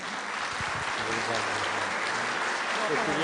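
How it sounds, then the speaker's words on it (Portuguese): Audience applause for a speaker at a Spiritist association event in São Carlos, a steady wash of clapping throughout with some low voices murmuring underneath. "Uma salva de palmas, Otacílio."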